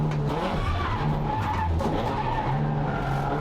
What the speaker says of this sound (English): As I get a bit of rear locking coming over the bumps into turn 6.